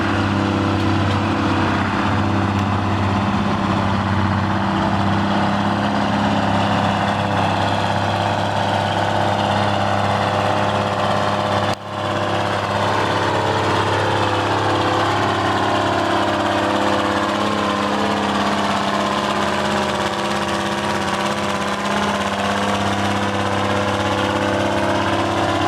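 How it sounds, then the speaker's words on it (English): A vintage tractor with a Detroit diesel engine idles at a steam era show, a loud, steady, low throbbing drone that holds almost unchanged throughout, with no talk over it. "I think those have a Detroit diesel in them"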